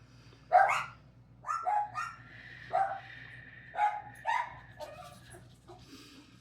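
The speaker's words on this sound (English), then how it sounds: "Let the dogs be all excited about it till they're done." Excited dogs yip and bark in scattered bursts, about half a dozen sharp barks spread over several seconds with short pauses between, close by and otherwise quiet around them.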